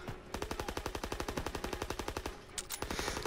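Rapid automatic gunfire from a World War II shooter game, a steady close burst of evenly spaced shots lasting about two seconds, then a brief pause and a few more rounds.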